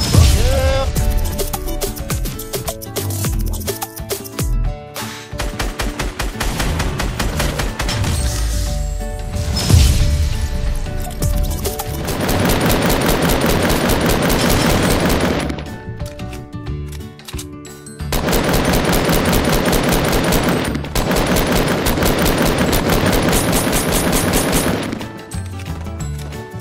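Gunfire in Fortnite, with loud rapid bursts and repeated shots crowding the stretch, some dense automatic runs broken by brief pauses, while players talk over the action.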